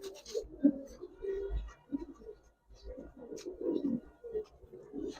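Low, soft cooing from Giribaz racer pigeons kept in a loft, repeated murmuring calls close by with faint rustling and handling noise between them.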